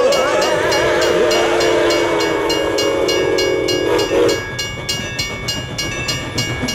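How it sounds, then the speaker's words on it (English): A train rumbles loudly past nearby while its horn sounds a long steady blast that cuts off partway through, then rhythmic wheel clatter continues alone. "That's the train coming!"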